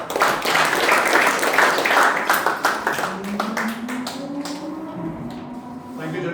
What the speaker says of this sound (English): Please welcome him with a loud round of applause.